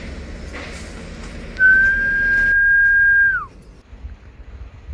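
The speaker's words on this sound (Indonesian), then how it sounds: "Suara itu mirip suara orang yang sedang bersiul." A single clear whistle holds one steady pitch for nearly two seconds, then slides downward and stops, standing out over quiet background noise.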